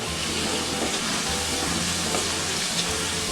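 Onions sizzle and hiss in hot oil in a pan as they fry into crispy beresta for egg biryani, a dense, continuous close-up crackle with no talking.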